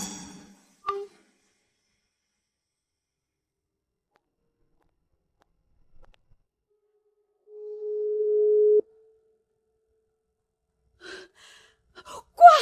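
A telephone tone after a call is hung up: one steady electronic beep, clear against near silence, with a few faint breaths before and after.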